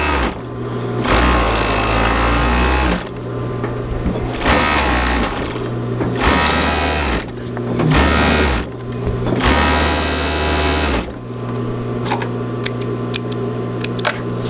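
Serger sewing machine hemming the edge of a wool blanket shirt, running in loud close bursts of rapid mechanical whirring separated by short pauses, with no talking.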